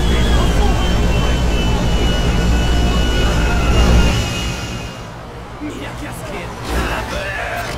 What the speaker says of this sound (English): The other plane's finally unstuck.